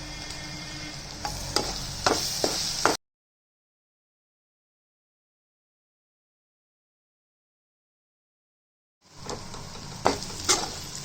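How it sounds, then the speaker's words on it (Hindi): Ginger garlic paste fries in a pan, with a soft sizzle and several sharp stirring scrapes, broken by a long silent gap before the sizzling and stirring return. "हम डाल देंगे अदरक और लहसुन की पेस्ट"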